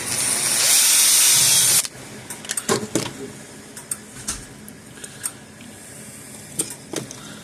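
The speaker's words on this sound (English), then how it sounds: "So I think if we drill maybe like right up here." A short burst of high-pitched power drilling into the plastic case of an old electric fence energizer for about two seconds, followed by scattered clicks, taps and cracking sounds of plastic being handled.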